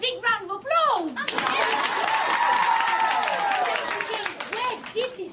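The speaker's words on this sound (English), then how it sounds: "let's have a big round of applause." A game-show studio audience breaks into loud, sustained applause with cheering, rising after brief talk and fading out a few seconds later.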